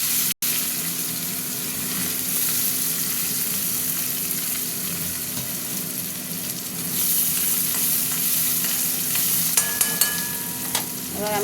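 Onions fry in hot oil with nigella seeds in a pan, a steady close sizzle lasting throughout, with occasional scrapes and taps from stirring near the end.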